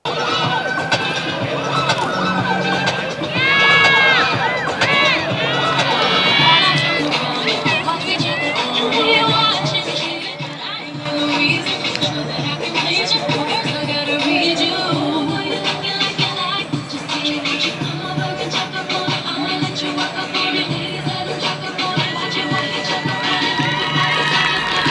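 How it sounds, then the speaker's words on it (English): A high school cheer team performs in a loud, continuous wash of crowd cheering and shouting, with a siren-like wail threading through and voices layered throughout. "Let's check in on the cheer team from Cappuccino High School."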